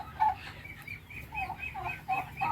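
Breeder chickens on a backyard farm cluck softly and repeatedly, with short nasal calls coming at an uneven pace, fairly close but faint, against quiet background hiss.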